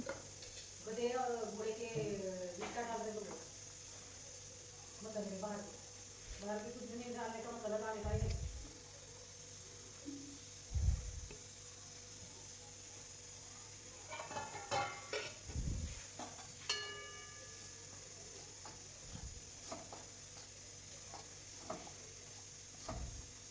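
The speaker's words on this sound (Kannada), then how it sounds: "ಒಂದು ಕಡೆಗೆ ತುಪ್ಪ ಹಾಕೊಂಡು ಲೋ ಗ್ಯಾಸ್ನಲ್ಲಿ ಸರಿಯಾಗಿ ಹುರ್ಕೊಬೇಕು" Besan flour roasting in ghee in a pan over low gas, with scraping stirs and soft sizzling; a voice talks over the opening seconds, then the stirring knocks and scrapes come through more clearly.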